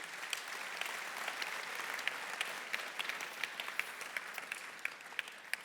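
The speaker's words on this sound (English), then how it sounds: "you can clap for that, that's cool." Church congregation clapping steadily as a dense, continuous wash of applause, with sharper individual claps popping out on top, moderately distant and even throughout.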